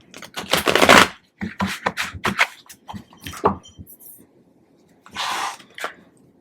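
Tarot cards are shuffled close to the mic in several bursts of rapid riffling and slapping, the last one a short flurry after a pause.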